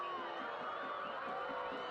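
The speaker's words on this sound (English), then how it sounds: "Crowd now pleased with the clean takedown by Richmond." A soccer stadium crowd cheers steadily at a match between Charlotte Independence and Richmond Kickers, a continuous broad roar at even loudness with faint voices mixed in.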